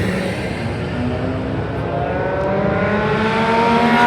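A Nissan GT-R race car runs on a circuit, its engine a steady loud drone with rising revs throughout, heard continuously from up close with no voices.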